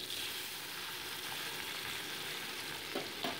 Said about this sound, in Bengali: এবার সেকেন্ড ব্যাচের মাছগুলো আমি উল্টে পাল্টে ভেজে নিচ্ছি